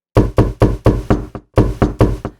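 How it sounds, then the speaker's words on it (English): Someone hammers loudly on a front door, eight hard knocks in two quick groups with a short pause between them. "she heard someone hammering on the front door"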